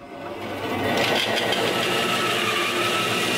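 A bandsaw cuts a wooden bowl blank, its steady broadband roar swelling within the first half second and then holding loud and constant to the end, with no voices.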